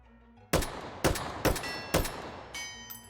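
Bullpup AK rifle in the VR game H3VR firing single shots: five sharp, loud cracks, spaced about half a second apart, each followed by a short ringing tail.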